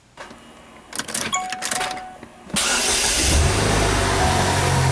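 A Saturn Sky roadster engine cranks with a few rough starter bursts, then catches and settles into a loud, steady idle close by.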